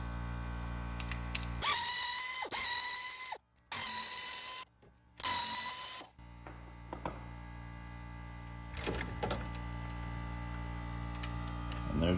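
A power recliner's motor and mechanism run in a few loud bursts, a whirring motor drone broken by short gaps, followed by quieter clicks and faint mechanical noise.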